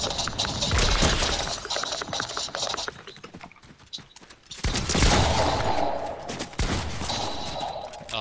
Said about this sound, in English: Keep shooting at him.